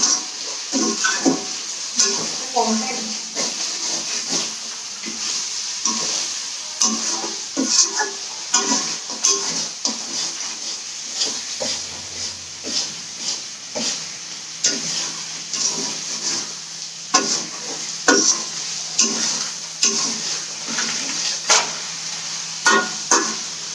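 Chicken pieces frying in a pan while being stirred, for a Peshawar chicken recipe: a steady sizzle runs underneath repeated scraping strokes of the spatula, close and fairly loud, with no one talking.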